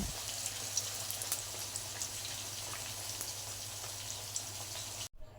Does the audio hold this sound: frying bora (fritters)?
yes